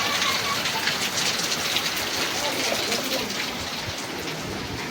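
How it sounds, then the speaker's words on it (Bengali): Heavy rain pours down in a dense, continuous hiss of drops striking surfaces, steady and loud throughout, with faint bird calls mixed in and no talking. "দেখো গাইজ, দেখো কি জোরে বৃষ্টি হয়েছে"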